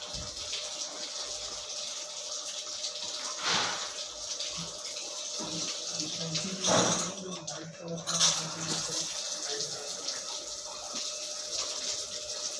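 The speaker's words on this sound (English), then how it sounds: "flush the carbon filter again for 5 minutes" Water flushes through the carbon filter of a Livpure Envy alkaline RO purifier as a low, continuous trickle, with a few brief louder gushes and clatters partway through.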